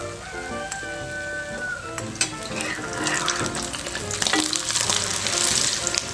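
Eggs frying in a pan in a small home kitchen, a steady sizzle with scattered pops and crackles throughout, with faint clinks and a brief rush of water from a tap partway through.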